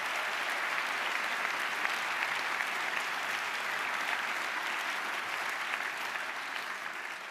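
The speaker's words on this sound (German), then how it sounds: "Applaus." Audience applause at the Amadeus Austrian Music Awards ceremony, sustained dense clapping from a large crowd at an even level that fades slightly toward the end.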